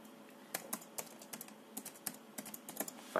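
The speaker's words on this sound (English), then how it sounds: "you type in the password" Keystrokes on a computer keyboard as a password is typed: an irregular run of sharp, close clicks, some in quick bursts and others spaced apart, with no talking.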